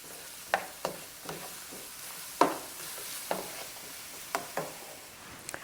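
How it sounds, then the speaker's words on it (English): Scallion, onion, garlic and ginger sizzling in hot coconut oil with a steady frying hiss, broken by a string of sharp stirring scrapes and knocks against the pan, close up, with no talking. "we heated the coconut oil and added scallion, onion, garlic,"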